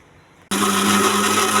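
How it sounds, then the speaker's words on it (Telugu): A kitchen mixer grinding peanut and coriander chutney with chillies and salt, starting abruptly after a quiet moment and then running as a loud, steady whirring drone. "మిక్స్ చేయాలండి మూత పెట్టుకొని."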